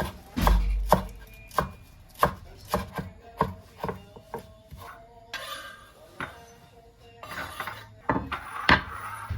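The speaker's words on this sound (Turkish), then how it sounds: "Üzeri için bir tutam maydanoz incecik doğrayacağım." A knife taps rapidly and unevenly on a cutting board, finely chopping parsley close by, with a few light clinks of kitchenware.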